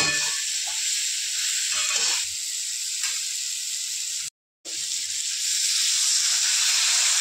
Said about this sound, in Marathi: एक लिटर पाणी टाकून घेतलंय।